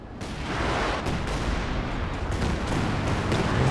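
Howitzer shelling during a Company of Heroes 2 battle, a run of heavy booming blasts at irregular intervals over a dense, loud wartime din with no voices.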